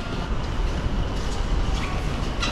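Inside a train station in Japan, a dense rumbling ambience of rail noise and rolling clatter fills the space, steady and moderately loud with no clear voices.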